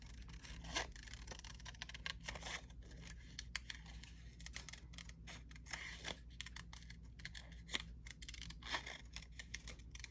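Small scissors snip carefully around a paper picture cut from junk mail, a quiet run of short irregular clicks and rustles close by, with no talk.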